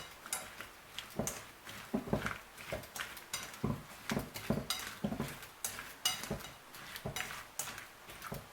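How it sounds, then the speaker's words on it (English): A utensil stirs creamy cucumber salad in a bowl, giving a close, steady run of light clinks and scrapes in an uneven rhythm, with no voices. "So the next stage is to mix everything up."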